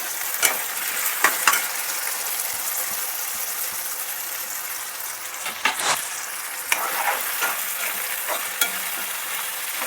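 Tomatoes, green chilies, curry leaves and baby potatoes sizzle steadily in hot oil for a country chicken curry, with occasional scrapes and clinks of a stirring spoon in the pan, no voices.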